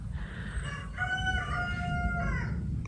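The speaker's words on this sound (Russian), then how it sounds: "Обожаю звуки петушков." A rooster crows in one long, drawn-out call over steady low background rumble in Iznik, Turkey, moderately distant.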